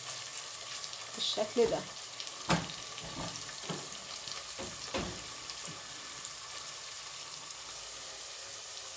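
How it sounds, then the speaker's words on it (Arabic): Chicken cubes sautéing in a pan give a soft, steady sizzle, with a cluster of stirring scrapes and knocks early on that thins to a quiet hiss. A voice speaks briefly. "مكعبات الدجاج او الفراخ بالشكل ده، واشوحهم مع بعض لحد ما الدجاج عندي يستوي"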